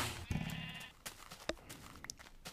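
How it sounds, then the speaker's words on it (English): Sheep bleating in the video game Minecraft, a short synthetic bleat standing out briefly amid faint game effects and background noise. "You look at sheep."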